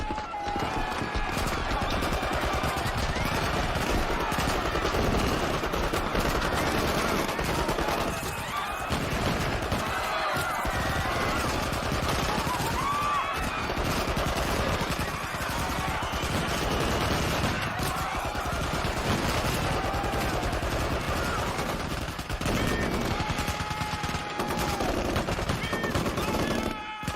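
Soldiers fire guns into a crowd in the film Rules of Engagement: dense, sustained gunfire with rapid automatic bursts and scattered single shots, mixed with shouting voices and chaotic movement throughout.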